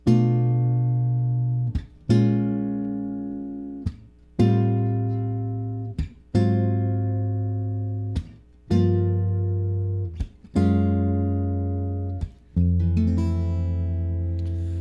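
A sequence of sustained, rich jazz guitar chords, each strummed with a clear attack and ringing out before the next, moving through a smooth progression resolving to F.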